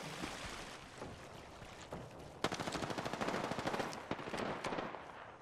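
Rapid automatic gunfire from smart bullets in Apex Legends, a dense rattling burst starting mid-clip and continuing loud and close after a few scattered earlier shots.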